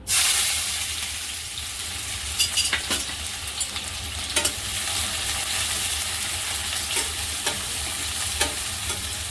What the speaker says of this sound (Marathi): कांदा चांगला परतून घ्यायचा आहे